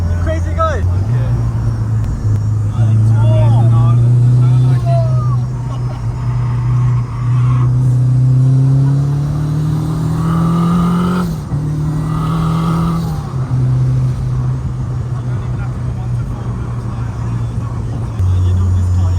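A 700 bhp Honda Integra DC5 drives with a loud, steady engine drone that rises and falls as it revs through gears from inside the cabin, while people talk over it throughout.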